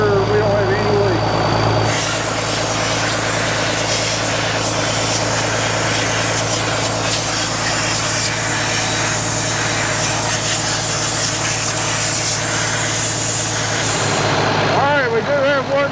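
Compressed air blasts continuously from a truck's ejector to push a seal off, a loud, steady hiss over a rumbling idling engine that runs for most of the clip and then stops.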